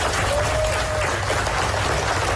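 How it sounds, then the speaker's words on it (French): Dozens of journalists from the Apple Daily newspaper in Hong Kong applaud together, a dense and continuous clatter of clapping heard up close. "Voilà quelques-uns des applaudissements de dizaines de journalistes, ceux du journal d'opposition Apple Daily"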